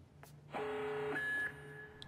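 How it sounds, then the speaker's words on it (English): An alarm goes off in the video game Watch Dogs 2, a steady electronic tone holding for about a second over a low hum, with a second higher tone layered in before it cuts off. "And there's the alarms."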